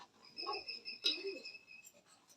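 Racer pigeons, blue checker maxi type, at a pigeon farm, giving a few soft low coos, one around the middle slightly louder, over a quiet background with faint chirps and no speech.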